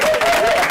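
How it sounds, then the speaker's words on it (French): A brief burst of loud crowd applause with some cheering, dense and close, from an audience clapping for a guest named Darius. "est-ce qu'on peut applaudir très fort pour Darius?"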